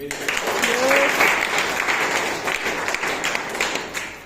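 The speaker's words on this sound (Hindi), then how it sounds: "जोरदार ताली आपके लिए" Loud, sustained applause from a large audience at an event honouring a senior leader, dense clapping filling the whole stretch without a break.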